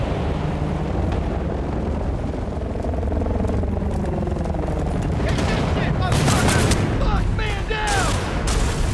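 Shotgun blasts in an old-school video game, a burst of heavy booming shots over a dense, loud continuous rumble of game noise, with sharper reports clustered toward the end.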